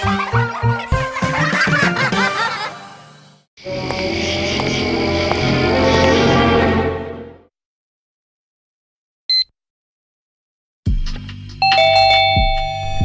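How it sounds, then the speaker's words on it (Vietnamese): A cartoon doorbell rings in a bright electronic chime, one high ding between silent gaps, set among loud musical jingles at the start and end; no speech. "có ai bấm chuông kìa"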